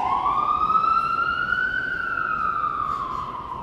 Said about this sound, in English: I'll just wait for the ambulance to go past.